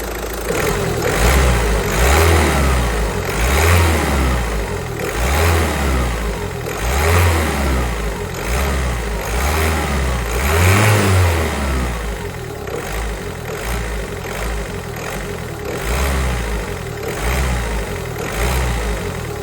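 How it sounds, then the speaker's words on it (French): A diesel car engine runs just after a fuel filter replacement, revving up and down in a steady repeating pattern of loud, close surges over a continuous idle, with no talking. "le moteur démarre sans problème"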